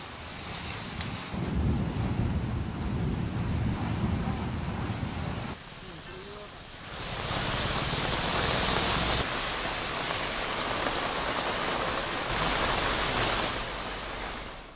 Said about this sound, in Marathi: वादळी वाऱ्यासह जोरदार पाऊस कोसळतोय